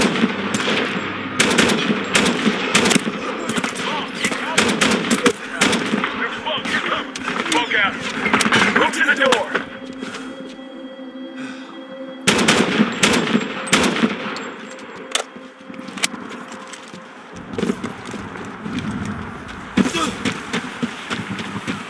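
Gunfire in a Medal of Honor video game at max settings, rapid automatic bursts and scattered shots, loud and near, mixed with battle noise and soldier voices talking through the clip.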